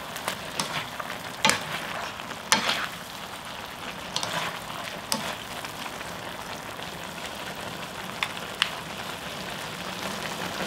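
Aged kimchi stir-frying in a pan with perilla oil gives a steady soft sizzle with scattered pops and crackles, close and fairly quiet, with no talking.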